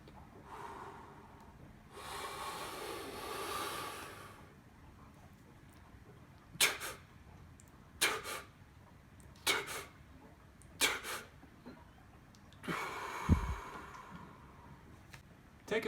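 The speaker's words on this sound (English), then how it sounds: "We do this by making quick partial exhales, followed by quick strong inhales, and tensing of the breathing muscles." Freediving recovery breathing: a few long forceful breaths, then a run of short sharp puffs of quick partial exhales and strong inhales, close and clearly audible, with no talking.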